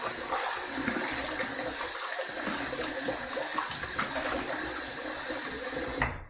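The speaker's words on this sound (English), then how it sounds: "All right, let's rinse." Tap water runs steadily into a sink to rinse a Wilkinson Sword Classic safety razor, a close, continuous splashing hiss that cuts off abruptly at the end.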